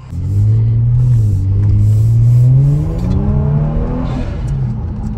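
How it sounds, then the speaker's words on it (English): An all-wheel-drive Kia Stinger engine rumbles low and loud, its exhaust burbling and droning up and down as it accelerates and eases off, with no talking. "Getting some really nice exhaust burbles right now."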